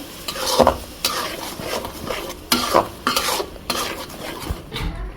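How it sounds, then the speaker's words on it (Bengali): Ginger, garlic, onion and spices fry in a wok as the base for a native duck curry. Steady sizzling runs under repeated scraping stirs of a utensil against the pan, close and with no talk. "কড়াইতে আদা রসুন পেঁয়াজ সব মশলা দিয়ে দিচ্ছি"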